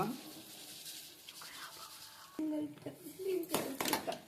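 A child stirring a sweet mixture in a pot, with scraping and clinking of a spoon against metal, growing busier toward the end, while a voice speaks quietly in the background.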